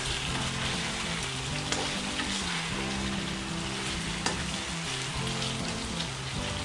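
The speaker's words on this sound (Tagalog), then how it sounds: "And then total kumukulo na siya." Steady bubbling sizzle of chicken adobo in coconut milk boiling in a pan, continuous and close, with no talking.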